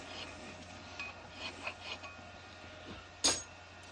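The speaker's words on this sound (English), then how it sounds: "Lastly, chamfer the holes." A cutting tool chamfers the holes of a classic Mini clutch backplate on a lathe, giving faint, intermittent scraping rubs, then one short, sharper rasp near the end.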